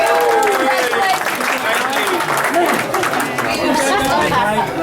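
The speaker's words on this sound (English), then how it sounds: "How about a round of applause for Flatout Motorcycles for doing this again?" A crowd chatters densely throughout at a motorcycle giveaway event honoring Flatout Motorcycles finalists, with scattered clapping mixed into the steady murmur of many voices.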